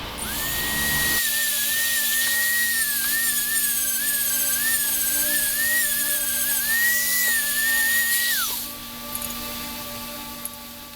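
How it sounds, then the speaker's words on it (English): A Dremel rotary tool grinds and cleans up the wings of a lightsaber pommel, a steady high-pitched whine running near and loud for about seven seconds before cutting off, with no talk. "now I just have to go with the Dremel and clean up the wings a little bit"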